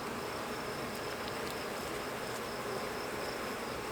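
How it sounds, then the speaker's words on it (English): A honey bee colony roars inside its hive, a dense, continuous buzzing drone that holds steady and fairly loud throughout, with no voices. "the difference in the mood and what's going on with the hive just by the roar of the colony"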